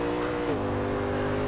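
A 2005 Mercedes-Benz SLR engine drones steadily in the racing video game Forza Horizon 2, a close, constant mechanical tone whose pitch dips briefly as it shifts, with no talk over it.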